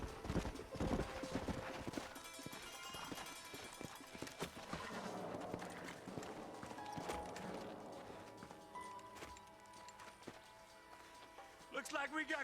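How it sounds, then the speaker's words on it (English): Horses' hooves clip-clop in Red Dead Redemption, the video game, as riders slow to a halt. Steady hoof beats sound under background music, with game character voices now and then. "Let's hold up a minute and find a spot for our horses."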